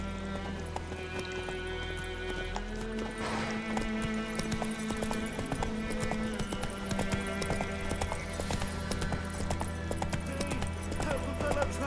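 Roach, a horse in The Witcher 3: Wild Hunt, gallops with steady clip-clop hoofbeats under a continuous music bed, with an occasional whinny and a voice speaking over it.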